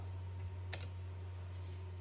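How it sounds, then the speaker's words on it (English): A 1952 Olivetti Studio 44 portable typewriter gives a single sharp key strike near the middle, standing alone over a steady low electrical hum. "I'll type a sentence in red on the next line."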